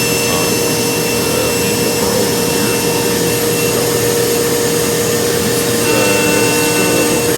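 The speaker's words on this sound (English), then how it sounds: "Now this is still adhered to our CNC system, and we're going to cut out the stars" A CNC machine with a large end mill cuts star shapes from stock, giving a loud, steady whirring and grinding roar that runs unbroken throughout, with no talking.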